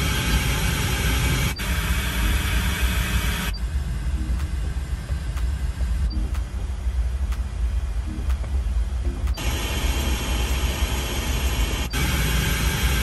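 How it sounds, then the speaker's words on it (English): Steady pink noise test signal hisses continuously through the speakers of a 2020 Toyota 4Runner, shifting in tone in abrupt sections as it cycles between speakers. "Go to the pink noise here."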